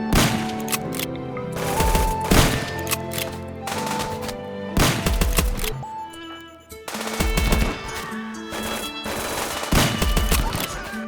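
Bursts of rapid automatic gunfire during a raid in the video game RimWorld, clustered volleys separated by brief lulls, with game music tones underneath and no talking.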